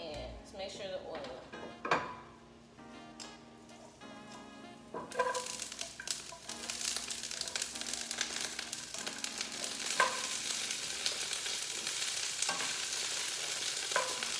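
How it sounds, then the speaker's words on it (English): Green beans hit hot oil in a pan at a home cooking session; a quiet clatter gives way to a loud, steady sizzle of frying that continues to the end, with stirring and pan noises. "we're gonna go ahead and drop our green beans into our pan"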